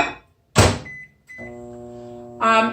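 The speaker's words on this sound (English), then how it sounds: "So I like to just put it in the microwave for about 2 minutes" A microwave door thuds shut, keypad beeps sound, then the oven starts with a steady humming drone.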